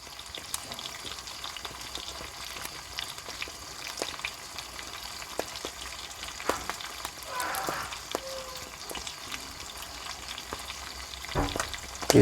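Fish shallow-frying in a pan of oil, a steady low sizzle and crackle running throughout with occasional sharper pops, fairly quiet and unbroken by speech.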